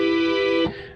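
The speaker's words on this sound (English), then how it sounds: "This is a Facebook Marketplace organ." Cheap second-hand organ bought secondhand, a single sustained bright tone held for under a second before cutting off abruptly, close and fairly loud.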